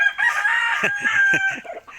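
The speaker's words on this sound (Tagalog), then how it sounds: "Ganda ng mga manok." A rooster crows loudly and close, a long strained call, followed by a few short clucks.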